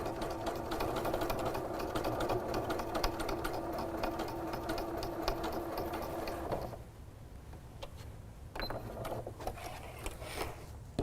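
A sewing machine top stitching woven windowpane fabric runs in a steady, close whir for most of the span, then stops abruptly and gives way to quieter handling noises and brief stitching bursts.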